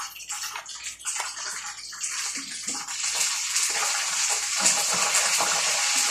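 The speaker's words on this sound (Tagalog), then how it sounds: "Ito po yung sukang may sili. Nalagyan natin." Chili-infused vinegar pours in a continuous splashing stream, building to a steady hiss of liquid that is close and fairly loud, with no one talking.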